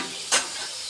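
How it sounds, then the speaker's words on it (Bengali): Slices of pointed gourd (potol), seasoned with turmeric and salt, fry in a pan with a steady close hiss and one brief louder sizzling burst. "সুন্দর করে লাল লাল করে ভাজে নিচ্ছি।"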